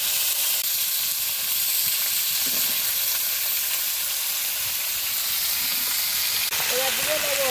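Vegetables — tomato, taro, pumpkin, kohlrabi and okra — hit hot oil tempered with Bengali five-spice, giving a loud, steady frying sizzle and hiss throughout, with a brief voice near the end.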